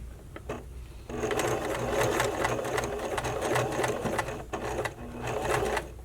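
A domestic sewing machine stitching bra fabric whirs in a steady close run, pauses briefly as the needle is held down to pivot, then resumes stitching, with no talk over it.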